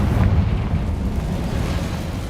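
A Confringo fire spell from the Hogwarts Legacy video game blasts in a loud, sustained, rumbling explosion that fills the whole moment with heavy low roar and no talk.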